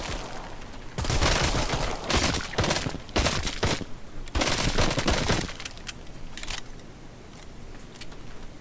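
Pistol gunshots in the VR zombie game Arizona Sunshine, a loud cluster of sharp rapid bursts for several seconds, a brief pause, then another dense volley before trailing off into quieter ambience.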